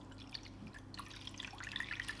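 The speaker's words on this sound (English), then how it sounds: "I'll also add a bit of water as well" Water is poured from a small amount into a roasting pan holding a lamb roast with beef stock, giving light trickling and dripping splashes close by, quiet and without speech.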